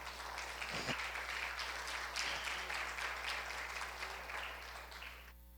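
A church congregation applauds in a steady, dense wash of clapping that fills the whole stretch and thins slightly toward the end.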